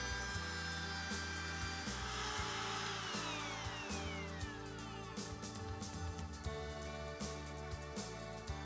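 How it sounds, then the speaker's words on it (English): A router cuts a hinge mortise into a door jamb along a Milescraft HingeMate150 hinge jig template, a steady close motor whine with the pitch shifting as the bit bites into the wood. "Double check the bit's cutting depth and start routing into the material, letting the bearing follow the template as you go."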